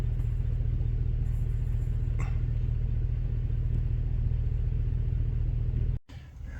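A vehicle's engine rumbles at a steady low drone along with road noise from the inside while driving at dusk on a hunting trip, and a brief cut comes near the end.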